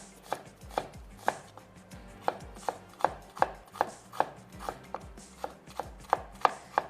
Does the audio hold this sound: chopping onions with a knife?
yes